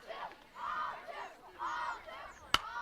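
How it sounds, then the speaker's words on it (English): Fans cheer at a high school softball game between Snowflake and Show Low, their shouts rising and falling in distant waves, with one sharp crack near the end. "And you can hear the fans cheering."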